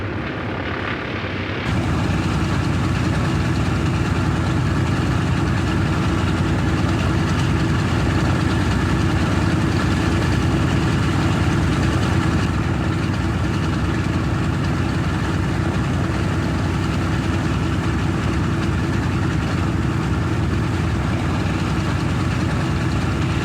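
B-17 Flying Fortress piston engines idle while taxiing with a steady, deep, continuous rumble and throb, loud and close, unbroken for the whole stretch.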